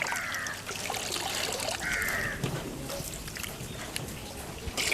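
Water is poured slowly over beef being washed for a homestyle curry, a close, steady trickle and splash that runs continuously with small surges.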